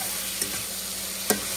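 Tomato and onion sizzle steadily in butter and oil close by, and two light taps of a stirring spoon stand out against the frying.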